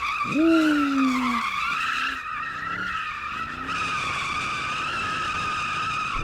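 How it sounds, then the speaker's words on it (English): A Mercedes-AMG car drifts with a loud, sustained tire squeal that rises and wavers, over a continuous high-pitched engine whine; no talk. "That thing's drifting like a dang Challenger."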